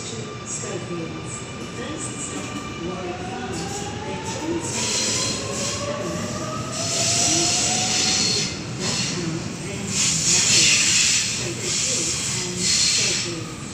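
Train departing a station platform at Liverpool: rising hiss and rumble as it pulls away, with gliding electric motor whine and wheel noise building in loudness, heard up close on the platform, with faint voices underneath.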